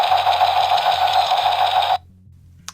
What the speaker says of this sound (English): So that is the sound of ED-209's machine gun terminating Mr. Kenny, literally.